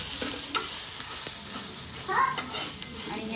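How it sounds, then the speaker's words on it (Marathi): Ginger garlic paste sautés in hot oil over a low flame for bheja fry, a steady close sizzle with a few soft spoon scrapes and taps as it is stirred. "आलं लसूण पेस्ट चांगली घालून घ्यायची, परतायची तेलाने."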